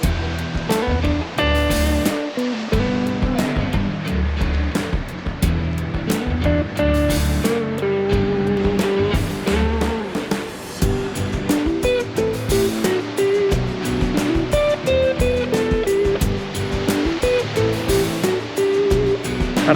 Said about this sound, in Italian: Guardate che mare che c'è.